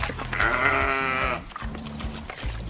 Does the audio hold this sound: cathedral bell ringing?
no